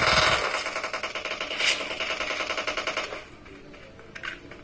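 Automatic weapon fire in a PUBG team deathmatch: a rapid, loud burst of shots rattling for about three seconds, then stopping, leaving a few faint scattered sounds behind.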